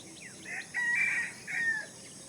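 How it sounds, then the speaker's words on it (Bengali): A rooster crows at dawn, a drawn-out cock-a-doodle-doo followed by a second shorter crow, somewhat distant over a quiet outdoor background. "ভোরবেলায় মোরগ ডাকছে"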